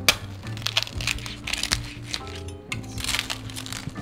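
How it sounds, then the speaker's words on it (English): Close, crisp crunching of crispy fried pork pata being broken and bitten, repeated crackles and snaps over a few seconds with a low background hum. "Now that's the sound you want to hear when you have fried pork."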